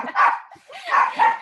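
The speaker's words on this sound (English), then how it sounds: "you have to tell your dog that we got the message" A dog barks nearby, three loud, close yaps with short gaps between them, standing alone without talk.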